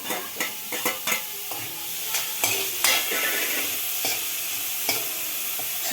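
Grated paneer is stirred and fried in a pan, with steady sizzling under a run of spoon scrapes and taps against the pan, some quick and clustered at first, then more spaced out.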